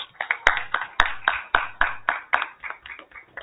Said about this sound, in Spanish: para quien pido nuevamente un fuerte aplauso, compañeros